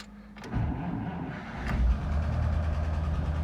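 Old 1952 Buick engine firing up after sitting unused for 26 years, a sudden start followed by a rough, loud idle that rises and keeps running close by.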